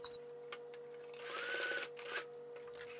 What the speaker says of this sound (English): I'm just sewing in my A Lazy Tuesday tags